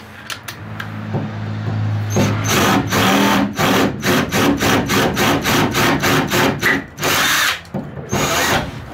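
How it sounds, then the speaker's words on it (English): A power drill with a 3/8 inch bit whirs close by in a quick series of short, repeated bursts, pausing briefly between each run. "Step it up to the 3/8 drill bit."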